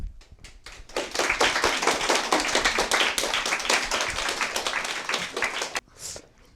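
Audience at an exam information session applauding as the director walks on stage: a few scattered claps build into dense, steady applause that fades out after about five seconds.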